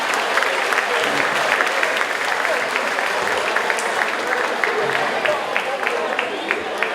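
Warm audience applause at a school graduation day for award recipients, a sustained dense patter of many hands clapping at moderate distance, steady throughout with faint voices mixed in.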